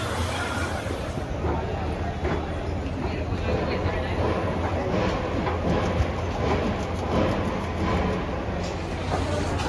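A local commuter train stands at the busy Kalyan railway station platform, a constant rumble of the train and station under crowd babble, with a person talking over it throughout.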